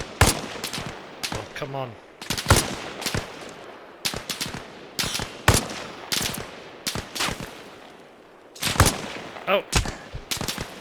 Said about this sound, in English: So somebody else is shooting at me.